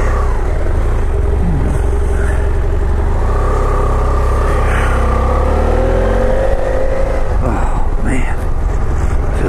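A 2013 BMW F800GS motorcycle riding along, its engine a loud, steady drone with rising and falling revs under heavy wind rumble, and someone talking over it.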